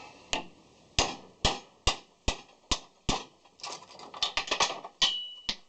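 Hammer blows on a thick chisel prying a magnet off a loudspeaker, a dozen sharp metallic strikes, spaced out at first and then in a quicker cluster, close and loud with no talking.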